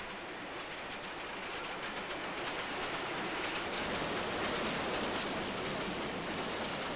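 A London Underground Bakerloo line train runs on Metropolitan track, a dense, steady roar of wheels and motors with faint rhythmic clatter, loud and close throughout and without speech.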